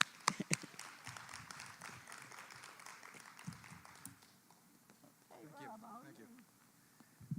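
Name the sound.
audience applause for a conference speaker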